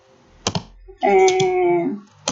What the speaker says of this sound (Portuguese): Vou digitar 6 palpites.